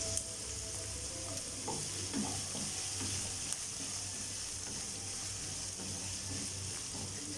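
Capsicum sizzles and crackles in a hot pan while being stirred, with soft scraping and clattering spread through a steady hiss of frying; no one speaks.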